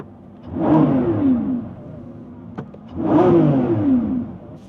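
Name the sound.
supercar engine revving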